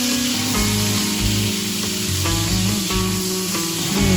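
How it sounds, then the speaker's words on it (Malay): Salted talang fish frying in a little oil in a pan, a loud, continuous sizzle with scraping stirs, and a steady hum underneath. "Mula-mula kita goreng ikan masin terlebih dahulu dengan sedikit minyak sehingga betul-betul masak."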